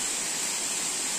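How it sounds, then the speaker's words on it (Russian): A large waterfall in the upper Uch-Kosh gorge roars as a steady, dense hiss of falling water, continuous and fairly loud with no other sounds standing out. "открывается вид на ниспадающий водопад"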